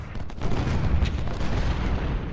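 Musket volleys crackle in a battle of the American Civil War strategy game Ultimate General: Civil War, set at Antietam. The fire is a dense, rumbling, continuous roll of many shots, loud and somewhat distant.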